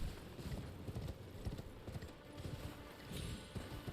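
A horse gallops in Elden Ring with a fast, steady clip-clop of hooves, loud and close, continuing throughout over a rumbling game background.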